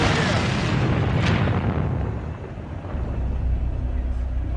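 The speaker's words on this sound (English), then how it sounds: "Chantosh orders an airstrike." A loud, close airstrike explosion arrives as a heavy rumbling boom that swells, dips briefly and then rolls on with a long low roar.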